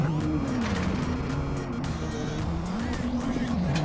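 A rallycross race car at the 2017 Red Bull Global Rallycross in New England roars loudly and continuously through a gravel section, its engine pitch rising and falling as it revs.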